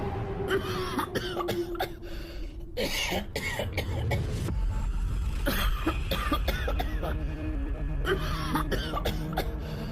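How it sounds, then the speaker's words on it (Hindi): A man coughs loudly in repeated harsh bursts, with brief pauses and some throat clearing between fits. "तभी उसका दम घुटने लगता है और वो जोर जोर से खांसने लगता है।"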